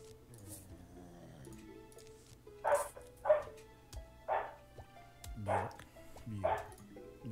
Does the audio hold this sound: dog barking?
yes